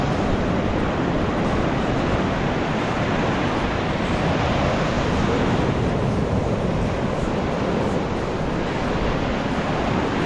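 High-tide ocean waves break and wash against a beach with rocks at Candeias, Jaboatão, near Recife, making a loud, continuous roaring surf mixed with wind noise, and no voices.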